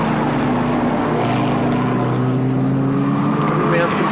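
A touring race car at the 1987 Yokohama Winton 300 passing on a lap, its engine a loud continuous drone with a slowly rising pitch, under a commentator's voice.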